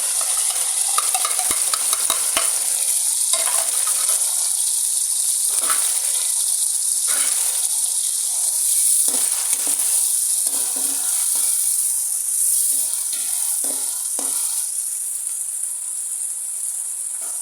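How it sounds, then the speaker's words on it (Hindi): Garlic, ginger, chillies and tomatoes fry in a pan for a mixed vegetable pulao. A close, steady sizzle runs throughout, with the scrape and clatter of stirring now and then. "लहसुन अदरक और इन सारी चीज़ों को 5 से 7 मिनट फ्राई करेंगे हम।"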